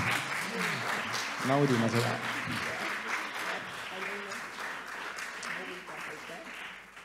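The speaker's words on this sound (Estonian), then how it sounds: "teeme veel ühe aplausi" Audience applause at an environmental education award ceremony, continuous clapping from a crowd with a voice speaking briefly over it.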